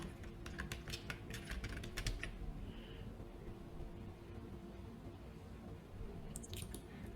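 Keys tapped on a computer keyboard in short bursts of quick clicks at the start, then a quiet stretch, then a few more taps near the end, over a steady low room hum.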